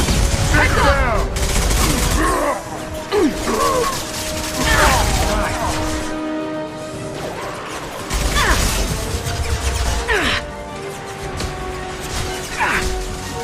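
Mass Effect 2 combat brings rapid bursts of gunfire, mechanical clatter and impact crashes throughout, with character voices calling out between the shots.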